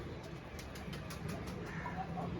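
Pigeons on a rooftop coo softly with occasional wing flaps over a steady outdoor background hum, faint and close.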